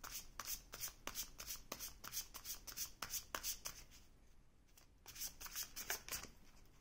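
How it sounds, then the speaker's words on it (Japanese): Tarot cards being shuffled and laid out by hand: close, quiet riffling flicks in quick rhythmic runs, a brief pause, then another run of shuffling. "じゃあもうちょっとカードを出していきましょうか。"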